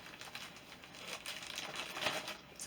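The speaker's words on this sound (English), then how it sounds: "Sorry about the bag noise." Plastic yarn-packaging bag crinkling and rustling close up, with irregular soft crackles that swell toward the end as the bag is handled.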